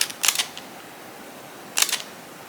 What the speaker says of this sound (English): this 18 f1 or f2 lens is very loud